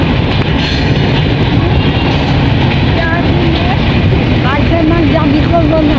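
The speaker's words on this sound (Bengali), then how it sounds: "আচ্ছা, ট্রেন যাইতেছে" A train passes close by with a loud, steady rumble and rattling of wagons, with faint wheel squeals, while people talk beneath the noise.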